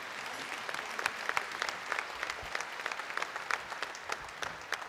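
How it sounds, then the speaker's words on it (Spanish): Faint, steady applause from a church congregation after a scripture reading, with individual claps standing out sharply from a continuous patter. "Fuerte ese aplauso para la palabra de Dios."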